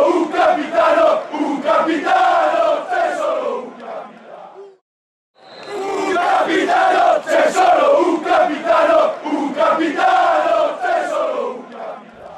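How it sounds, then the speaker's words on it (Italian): Football crowd chanting in unison for their captain, loud and sustained in two long bursts separated by a brief silent gap, with rhythmic massed voices filling the space. "Dopo Maurizio Neri sei il primo cui i tifosi dedicano un coro, c'è solo un capitano."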